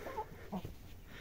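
Three marble Cochin hens cluck softly nearby in a few short, low bursts, faint and without any talking.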